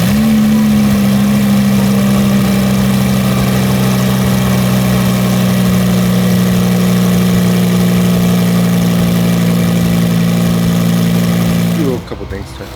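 A built car engine runs at a steady, loud idle with a strong droning hum, then cuts off abruptly near the end.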